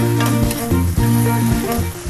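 Yellow eggplant and scallops stir-fry in a hot pan for a spicy Thai dish, giving a loud, steady sizzle with rhythmic stirring and clattering throughout, with no voices.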